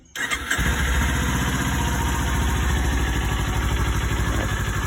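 A Kawasaki Ninja 400 motorcycle with its stock exhaust, ridden for two and a half years, cranks over and fires up close by, then settles into a steady, loud, throbbing idle with no talk.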